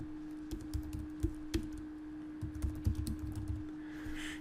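Typing on a computer keyboard, quiet irregular clusters of light key clicks in quick bursts over a faint steady hum, with no talking.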